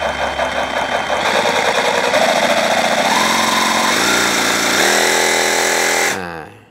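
A JLD cordless reciprocating saw runs loud and steady with the trigger squeezed, its motor whine and rattling blade drive holding for about six seconds, stepping up in pitch as the variable trigger is pressed further, then spinning down abruptly.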